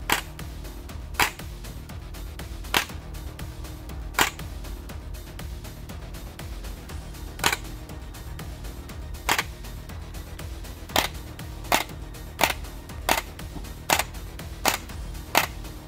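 Airsoft AEG replica firing single shots with the piston impact damped by an absorber pad, sharp muted clicks spaced irregularly over a steady low background, coming faster toward the end.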